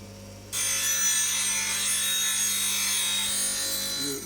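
A woodturning tool edge is sharpened on a grinder, a bright continuous grinding hiss that starts abruptly after half a second and holds steady and fairly close, with no voices.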